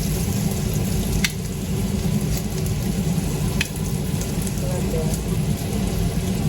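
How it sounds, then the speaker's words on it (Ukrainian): Chicken sizzles loudly and steadily in a pan on a home stove as burgers are being prepared, with a constant crackling hiss and a couple of sharp pops. "Це курочку кладу. Зараз смажити."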